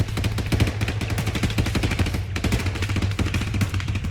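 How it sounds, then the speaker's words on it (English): Sustained gunfire from a firefight in the ARMA 3 video game, with dense, rapid machine-gun bursts and overlapping shots rattling continuously at close range and high volume throughout. "They're in a pretty substantial firefight with some of the advance, I guess the advance party of rebel troops"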